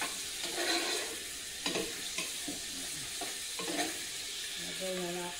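Beef for a caldereta browning in a pan, a steady hiss of sizzling fat broken by scraping stirs and clinks of a utensil against the pan, with a higher bubbling note near the end.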